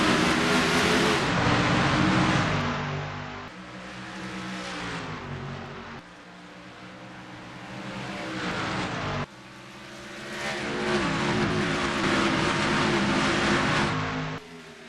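A field of race cars roars off at the green flag at Rockingham Speedway, North Carolina, engines loud and close with rising, shifting revs and overlapping drones as they accelerate and pass.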